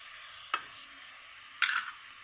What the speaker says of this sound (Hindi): सारा मसाला मिक्स करेंगे।